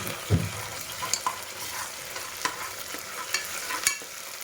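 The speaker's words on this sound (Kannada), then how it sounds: "ಒಂದು ಸ್ಪೂನ್ ಶುಂಠಿ ಬೆಳ್ಳುಳ್ಳಿ ಪೇಸ್ಟ್ ಹಾಕ್ತಾ ಇದ್ದೀನಿ ಇದರ ಜೊತೆಲ್ಲ ಈರುಳ್ಳಿ ಎಲ್ಲ ಚೆನ್ನಾಗಿ ಫ್ರೈ ಆಗಿ" Ginger garlic paste and onions fry in a pan, giving a steady sizzle broken by scraping stir strokes and a few sharp clinks of the spoon, close by with no talking.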